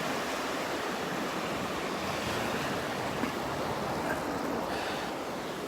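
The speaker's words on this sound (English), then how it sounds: "Those waves can definitely work to our advantage" Steady ocean surf rolling and breaking along a Gulf beach at Delnor-Wiggins, a continuous broad wash of waves with some wind noise, heard close by and alone without talk.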